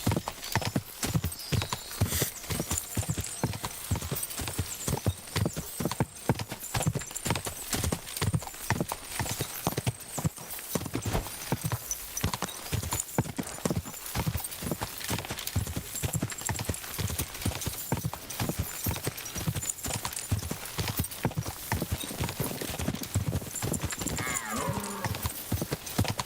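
Horse hooves clip-clop in a quick, continuous rhythm while riding in the video game Kingdom Come: Deliverance II, steady and close throughout, with occasional speech over the hoofbeats.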